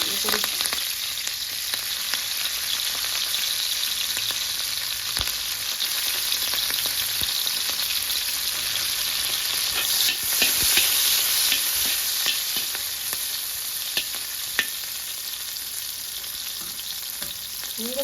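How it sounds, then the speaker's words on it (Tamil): Vegetables frying and being stirred in hot oil in a pan, a steady loud sizzle running throughout with frequent scraping clicks of the spoon, no talking. "எண்ணெய் வந்து சூடாகிட்டுது இப்போ நாங்கள் வந்து மரக்கறியில் போடுவோம்"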